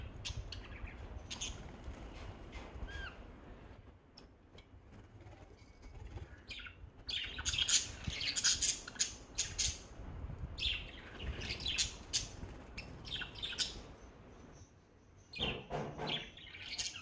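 Pet lovebirds kept in a home give off bursts of bright chirps and harsh squawks, busy and close, over a steady low background hum, with several louder clustered outbursts of rapid calls.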